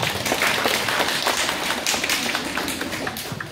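An audience at a foundation's thanksgiving event in Indonesia claps hands in a steady, dense patter that holds throughout at moderate loudness, with no speech over it.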